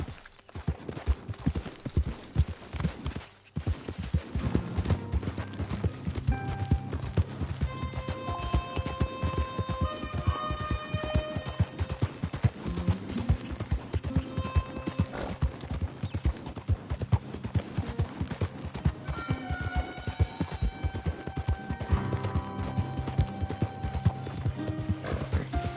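A horse gallops in the video game Red Dead Redemption 2, its hooves pounding in a fast, continuous rhythm with occasional whinnies, under a background of game music.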